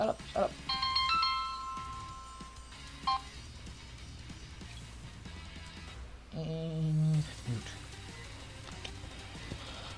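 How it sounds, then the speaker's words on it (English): In the game I Love You, Colonel Sanders!, a phone ringtone plays as a short electronic melody of bright tones, repeating in bursts amid background music and sound effects. "Why is my phone ringing?"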